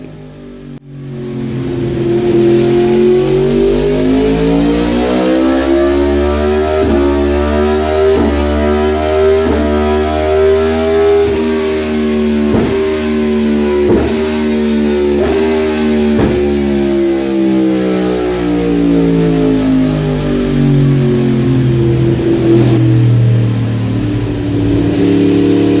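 A freshly built Yamaha R1 superbike engine runs on a dyno, revving up through higher RPM in repeated swelling sweeps with rising and falling pitch, loud and close for the whole stretch without any talk.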